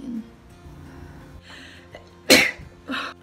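A single sharp sneeze bursts out loudly mid-clip during a makeup tutorial, followed by a smaller breathy exhale or second sneeze, with faint background noise and light handling sounds around it.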